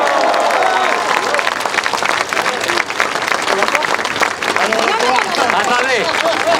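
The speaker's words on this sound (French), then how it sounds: "un tonnerre d'applaudissements pour eux encore" Loud, sustained applause from a large crowd at a political rally in Nantes, dense clapping with cheering and crowd babble running steadily throughout.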